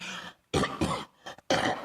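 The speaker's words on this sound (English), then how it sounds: "Sorry for the cough here, folks." A few harsh, throaty coughs close to the mic, three quick bursts with a short catch of breath between them.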